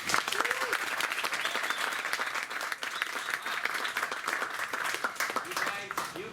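Lively applause and clapping from a theatre audience before a stage play, sustained and dense for several seconds, with distinct sharp claps standing out and brief voices mixed in.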